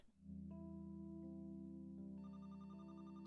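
Phone ringtone from an incoming call: a steady electronic melodic tone with sustained harmonic notes and a brighter phrase near the end, clear and alone.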